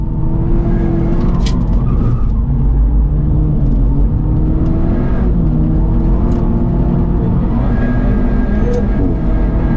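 A Lynk & Co 03+ at full throttle on a racetrack in Ningbo, China, its engine note rising steadily and loud from inside the cabin, with a gear change partway through and no voices.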